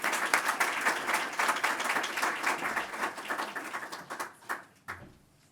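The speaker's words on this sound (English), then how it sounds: "Let's give him a round of applause." A business forum audience gives a round of applause for the company president, a brisk crowd of clapping hands at moderate distance that gradually thins out into a few last claps.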